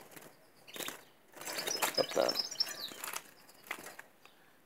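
Young weaned canaries flap their wings in quick fluttering bursts as they are handled in a breeding setup, with someone speaking briefly over the close rustling.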